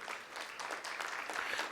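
An audience at a Hindu religious discourse on Ekadashi claps together in a brief, dense burst of applause, steady and moderately loud without a voice over it.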